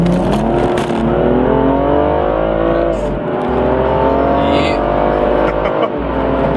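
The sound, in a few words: car accelerating hard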